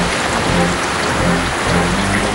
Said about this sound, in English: Heavy rains continue to lash Tamil Nadu after a brief lull.